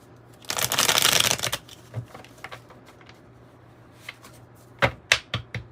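A long ruffling burst of tarot cards being shuffled, followed by scattered taps and a few quick riffles, close up with no talking.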